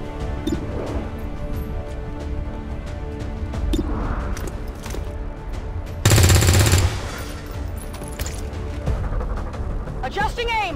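XCOM 2 combat sounds with a short, loud burst of gunfire in the middle, set against game ambience and intermittent voices.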